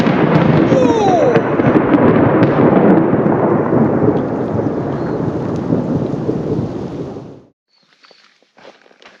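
A thunderstorm on a mountain trail with continuous heavy rain and rolling thunder, loud and close, sustained for several seconds before cutting off abruptly into near silence with a few faint drips.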